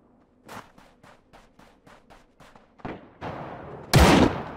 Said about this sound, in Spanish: Yo escucho un disparo derecho.